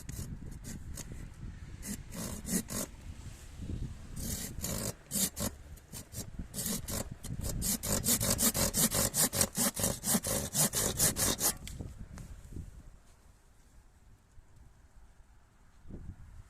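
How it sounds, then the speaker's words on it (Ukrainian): Vitals GS-360-01 garden pole saw cutting through an already-cut tree branch, producing fast rhythmic rasping strokes that speed up, then stop, leaving only faint handling sounds. "Це я пиляю не дерево, а вже зрізану гілку."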